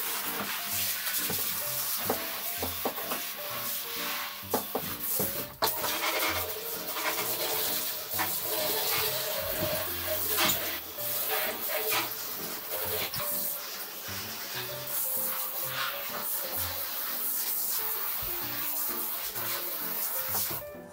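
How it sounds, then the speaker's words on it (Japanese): Water rinsing a bathtub after cleaning with a homemade bath cleaner, heard as a steady close splashing and gushing wash with occasional clunks of a bucket or fittings throughout, no voices. "それではすすいでいきます。"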